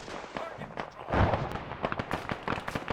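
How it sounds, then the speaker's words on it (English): A BTR armored vehicle fires in an Arma 3 combat scene, with a rapid cluster of sharp cracks and booms, one heavier burst in the middle, set among scattered gunfire and under a voice talking. "Is that the BTR that's firing?"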